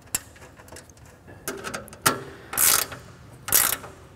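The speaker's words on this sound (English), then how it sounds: "drop your washer on and then a nut. Get one side started and then do the other." Ratcheting clicks and metallic turning sounds come from nuts and washers being tightened onto the lid screws of a SuperMax 37x2 double drum sander, arriving in separate close, loud bursts with short pauses between them.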